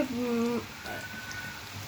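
Onions frying in a pan while a Bengali fish curry with potatoes is being made. There is a steady crackling sizzle with a brief voice-like tone at the start.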